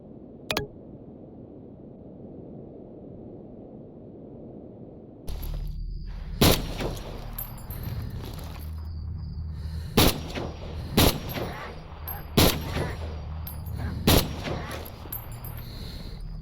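Single sharp rifle shots from SVD sniper rifles in the Stalker Zona mod pack game ring out loudly and close, spaced a second or two apart, after a quiet ambient opening with one early shot.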